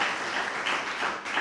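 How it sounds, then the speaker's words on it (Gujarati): Audience applause at a Gujarati literary conversation event: steady, dense clapping from a seated crowd, fairly close and even in loudness, brief and with no talk over it. "એને તો ખૂબ તાળીઓથી વધારવા પડે."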